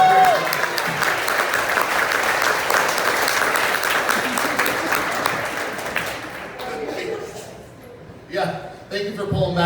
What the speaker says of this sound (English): Give Brian a round of applause